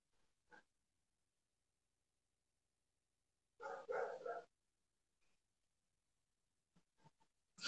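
A dog gives a single short burst of barking, fairly near, in an otherwise quiet space broken only by a few faint clicks.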